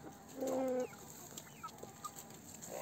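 Brahma and Columbia hens in a farmyard, one short cluck standing out near the start followed by faint scattered clucks against low background noise.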